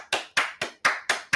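An audience in a church claps for a pastor, six sharp, evenly spaced hand claps in a quick rhythm, fairly close and alone.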